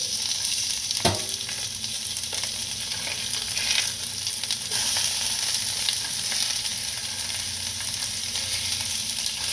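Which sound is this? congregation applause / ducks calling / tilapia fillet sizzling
tilapia fillet sizzling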